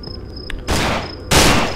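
Two loud, sharp gun bursts in the horror video game Cry of Fear, each ending in a short decay, with a faint insect-like whine in the quiet between them.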